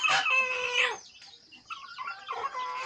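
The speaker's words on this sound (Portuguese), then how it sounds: "Aqui nessa gaiola aqui tem, tem 20, 25 pintos." Chickens and chicks in a cage on a farm: a loud rooster-like crow or cackle opens, followed by quieter overlapping clucking and peeping, close by.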